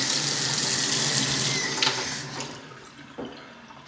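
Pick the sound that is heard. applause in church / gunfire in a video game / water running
water running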